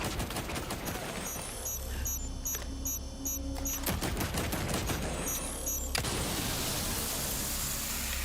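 Rapid gunfire from the video game Resident Evil 4 Remake crackles in dense bursts over game ambience and mechanical whirring, ending in a loud wash of noise.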